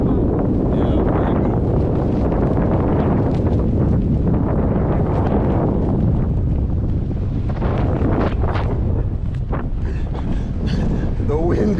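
Strong wind buffets the microphone high above the sea while parasailing off Jamaica, a loud continuous roaring rumble with gusting swells, and voices speak faintly beneath it.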